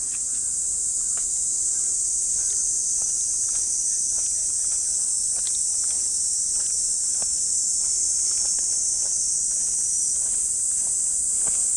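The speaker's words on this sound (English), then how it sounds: "Cicadas in Japan are a hell of a lot louder." Cicadas drone loudly and steadily in a hot Japanese summer beside baseball fields in Saitama, a dense high-pitched buzz running unbroken throughout, with faint scattered ticks and clicks underneath.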